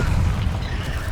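A Bombarda blasting spell explodes in Hogwarts Legacy with a loud, heavy, rumbling blast that fills the whole second without pause.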